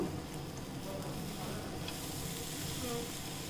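Brinjal pieces fry in a pan with a steady close hiss and sizzle while a wooden stick turns them, giving faint scraping under the continuous frying noise.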